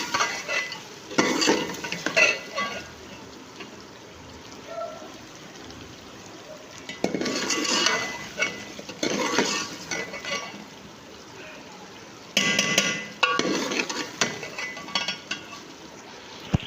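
Potatoes being stirred and fried in a pan in a home kitchen, with bursts of scraping and clinking stir strokes over a steady low sizzle, coming in clusters separated by quieter frying.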